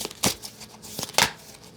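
Oversized book-sized tarot cards from the Ancestral Path Tarot being shuffled by hand, making a few crisp papery riffles and slaps close up in a quiet room.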